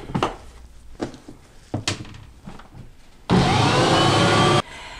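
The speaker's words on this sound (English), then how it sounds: "it's time to turn on the Bosch" A Bosch stand mixer switches on to knead pizza dough, a loud steady motor whir running for over a second after scattered soft kitchen knocks and thumps.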